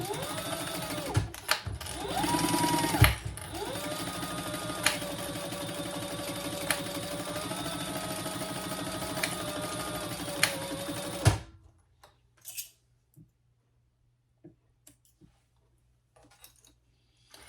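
A sewing machine bastes tote handbag fabric, its needle running in a steady, close rapid whir for about eleven seconds before stopping. Quiet handling sounds follow.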